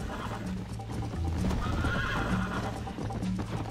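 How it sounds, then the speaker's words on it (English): Hooves drum in a steady galloping rhythm with a horse whinnying over the top, all under a constant mechanical rumble, in the video game Red Dead Redemption on Xbox 360. "I'm really good at riding horses in this game."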